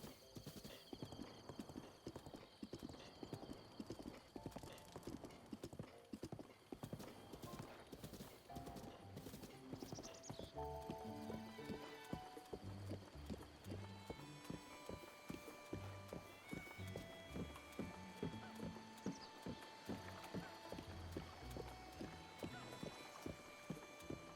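Rhythmic hoofbeats of a horse clip-clopping steadily throughout in The Legend of Zelda: Breath of the Wild, with music and game sounds layered underneath.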